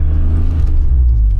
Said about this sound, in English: These 6-cylinder engines are so nice. Yeah. They purr.